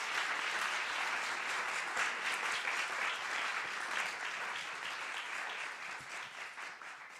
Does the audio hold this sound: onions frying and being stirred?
no